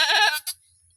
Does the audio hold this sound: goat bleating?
yes